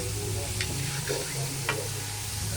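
Amla with palm jaggery stirred gently in a pan over low heat: a soft continuous sizzle with a few light scraping strokes of the spoon.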